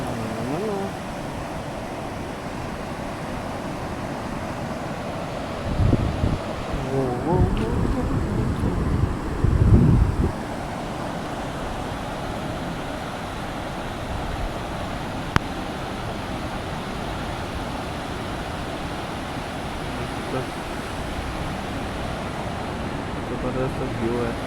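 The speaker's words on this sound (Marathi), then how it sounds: "समुद्राचा आवाज आणि पावसाचे तुम्हाला थेंब दिसत असतील." Sea waves at Aarvi beach in the rain, a continuous wash of surf mixed with heavy wind noise against the microphone, with a few louder gusts in the first half.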